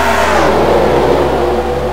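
Race cars roaring off the line at the green flag in a NASCAR-style video game championship race, a dense, loud, steady wall of engine noise revving upward for the whole stretch with no voices.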